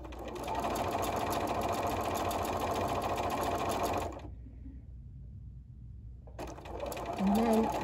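A sewing machine stitches quilt panel seams at a scant quarter inch, running steadily and close for about four seconds, then stopping for a pause before starting up again.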